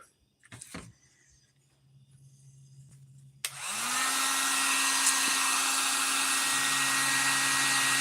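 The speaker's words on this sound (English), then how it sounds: "apply a little heat to this epoxy, or to this Kydex" An electric heat gun aimed at epoxy and Kydex on a knife-making bench clicks on after a few quiet seconds with some handling taps, then blows with a loud, steady, close-up whooshing hum.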